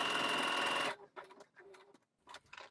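A sewing machine stitches a dart in trouser fabric, running loud and steady for about a second, then stopping, with faint light handling noises after.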